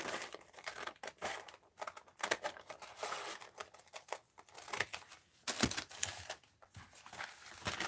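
Paper is snipped and handled with scissors, producing a dense, continuous run of crisp crinkling and cutting noises at close range, with no talking.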